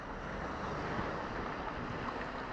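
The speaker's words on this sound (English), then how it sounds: "It's windy." Wind blowing by a bay on a gray day with a few whitecaps, a steady broadband rush and buffeting on the microphone, fairly faint, with no voices.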